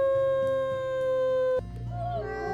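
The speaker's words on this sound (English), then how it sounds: "And then howl for Firefly." A single long, steady wolf howl from the video game WolfQuest breaks off abruptly, followed by quieter game ambience and a faint, wavering call.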